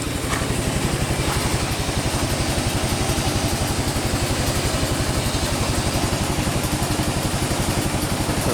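A generator engine runs steadily beside an early 1900s Kewanee boiler, its fast, even firing pulses close and loud with a mechanical clatter throughout, and no one speaking.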